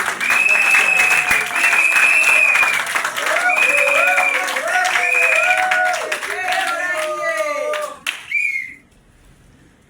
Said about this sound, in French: Est-ce qu'on peut applaudir pour